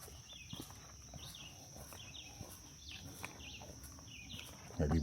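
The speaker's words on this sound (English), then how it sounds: "I hear a lot of birds" Birds chirping and singing along a hiking trail in the Black Bear Wilderness Area, repeated short calls at a moderate distance over faint ambience, with soft footsteps and a brief rustle at the end.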